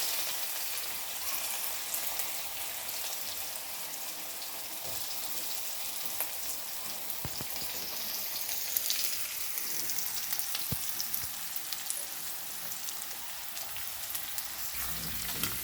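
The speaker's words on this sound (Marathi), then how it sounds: "मोहरी तडकली म्हणून जिरी टाकली, जिरी लाल झाली म्हणून लगेच कांदा टाकून घेतला" Mustard seeds, cumin and onion fry in an iron pan, giving a steady close crackling sizzle like rain with scattered pops throughout, no voices.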